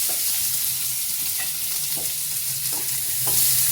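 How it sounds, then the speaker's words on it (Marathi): Onion sautéing in hot oil in a kadhai for a bhindi dish, a soft constant sizzle with a few spatula scrapes and taps, close up, no voices. "कांदा छान परतून घेऊ।"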